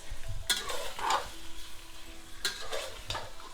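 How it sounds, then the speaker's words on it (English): Pork belly sizzles steadily in a hot pan as it browns, with a utensil scraping and stirring in a few sharp strokes; close and fairly loud, no talking. "And now all you have to do is keep frying this, browning it"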